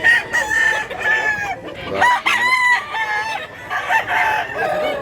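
Several roosters for sale crow one after another, close and loud, over a busy backdrop of clucking hens at a market in Mantalungon, Cebu; the crows overlap in a lively, uneven rhythm.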